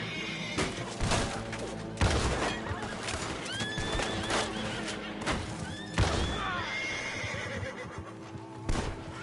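Riders' horses approaching in Red Dead Redemption 2, with repeated neighs and whinnies over clip-clopping hooves and scattered thuds, fairly loud and close amid busy game action.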